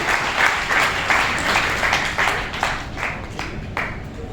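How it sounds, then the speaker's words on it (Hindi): An audience at a business seminar in a hall claps loudly and continuously, individual hand claps popping out of a steady roar that slowly tapers toward the end. "वाह, जोरदार तालियां"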